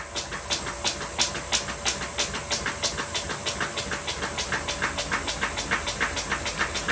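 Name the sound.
electric motor of a Fay and Egan pattern lathe speeding up on VFD control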